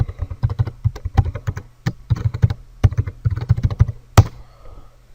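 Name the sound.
typing on a computer keyboard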